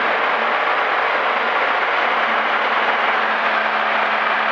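A small aircraft's piston engine throttled back in cruise flight, heard from inside the cabin as a steady, loud, broadband drone with a low engine hum that holds constant and close throughout, with no talk.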